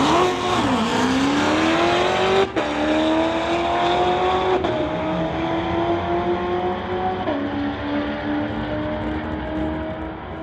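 Drag race between a 1971 Pontiac and a 2016 Corvette on a street-legal strip, loud engines revving hard through several gear shifts, each shift marked by a sharp break in pitch as the cars pull away and fade.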